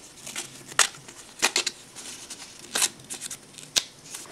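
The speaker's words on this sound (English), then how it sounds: "the distressing tool, and I'm really going to rough up that edge" Ruby red cardstock edge roughed up with a Stampin' Up distressing tool: a string of short, dry scraping bursts, irregular and close, with quiet gaps between strokes.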